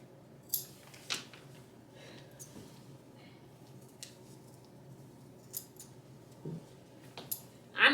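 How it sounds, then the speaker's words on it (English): Several crisp snips of new left-handed scissors spaced irregularly, close up and fairly quiet, with faint handling noise between cuts and no talking. "These are a brand new pair of left-handed scissors"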